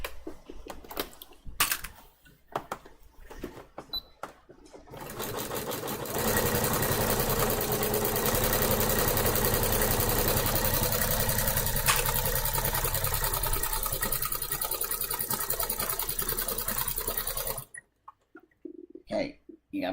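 A sewing machine stitches steadily for about twelve seconds, a loud continuous whirring run framed by scattered handling clicks and brief pauses before and after.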